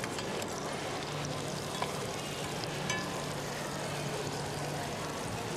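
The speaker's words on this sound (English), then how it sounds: "Now I'm going to add the curry leaves. At this stage, I'm going to add some onion." Onions and curry leaves sizzling in a hot pan, a steady broadband frying hiss that runs evenly from start to finish with a few faint clicks and pops on top.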